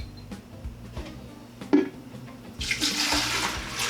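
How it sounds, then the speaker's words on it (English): Water is poured from a container into a pitcher sitting on a kitchen scale while making fermented hot sauce, starting as a few faint splashes and building into a steady, close, gushing pour over the last second. "dump it in so I don't pour it all over the place"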